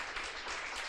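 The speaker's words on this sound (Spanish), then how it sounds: "¿Cuántos aplauden al Señor?" A church congregation applauding, a brief burst of dense, fairly quiet clapping from many hands in a room, with no talking.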